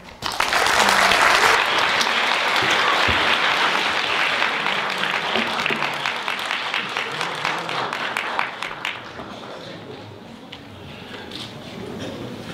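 An audience at a lecture gives loud, sustained applause that fills the room, then gradually thins into scattered individual claps and fades toward the end.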